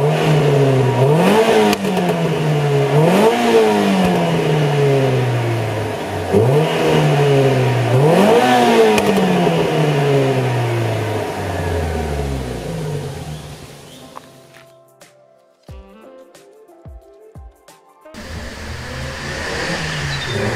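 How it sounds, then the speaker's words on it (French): A stock-exhaust Renault Clio 3 RS engine revs up hard several times in a row, each blip climbing and falling back, then winds down to idle and cuts off near the end, leaving faint clicks and ticks. "la ligne d'échappement, celle-ci elle est totalement d'origine, je vais vous la démarrer juste après"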